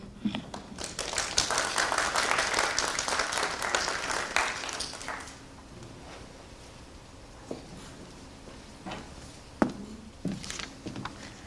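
An audience at a Black Heritage Month celebration breaks into dense applause that holds for about five seconds, then thins to a few scattered, isolated claps against a quiet room.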